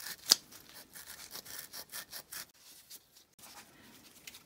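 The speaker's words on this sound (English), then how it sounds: "Give this one a bit more of a clean as well. I'm going to clean these up a little bit." Quiet, rhythmic hand scrubbing of power steering pump parts during a rebuild, with short repeated rubbing strokes and small pauses, close and faint.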